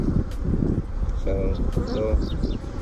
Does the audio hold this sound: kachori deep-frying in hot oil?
no